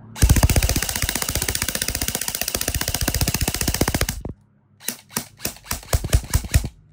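An E&C 854 TTI AEG airsoft rifle fires a loud, rapid full-auto burst of about four seconds, then falls briefly quiet before several shorter bursts and single shots.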